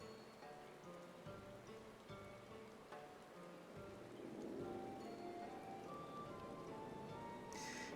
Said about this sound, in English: It's also raining here.